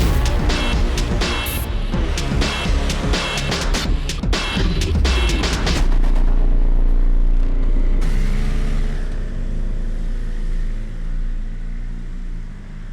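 A BMW M 1000 RR superbike rides at a test ground near Munich, with loud, dense engine roar and rapid revving that rises and shifts, then settles into a steadier, fading drone as it pulls away.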